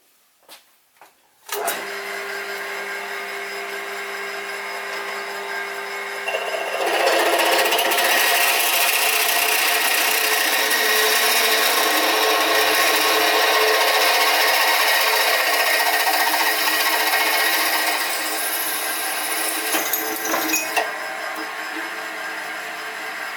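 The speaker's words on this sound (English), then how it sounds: "I've centre drilled already and drilled to 5mm diameter, so I'll just finish it off with this" An 8mm drill bit enlarging a 5mm pre-drilled hole in a metal flywheel, a steady, loud grinding whir that swells and holds for many seconds before easing, no talk.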